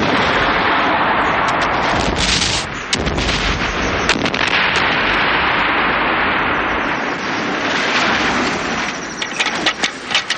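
A small model rocket fired on a low-budget splatter film shoot, giving a loud, sustained roaring blast with crackling bursts that fills about ten seconds, with a brief dip near the three-second mark.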